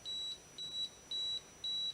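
Four evenly spaced electronic beeps from a Microlight ML830 portable Class 3B cold laser treatment timer, each a steady high tone about a third of a second long, clear and close with no voices.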